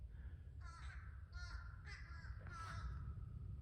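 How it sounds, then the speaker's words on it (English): A flock of crows, around thirty or forty, flying overhead, giving four distinct harsh caws in an uneven series over a low rumbling outdoor background, moderately close and fairly faint. "Look at all these crows flying over me."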